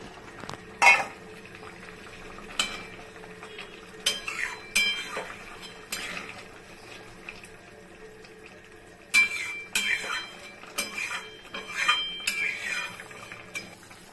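Fish being added to a simmering Bengali potato curry of boroli fish, with a soft bubbling bed broken by several sharp clinks and scrapes of a utensil against a pot, in scattered bursts.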